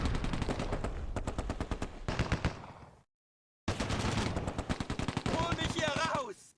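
Rapid bursts of MG42 machine gun fire in Close Combat: A Bridge Too Far, loud and close, rattling in dense repeated volleys with a short silent gap midway, then more sustained firing with a brief voice-like tone near the end.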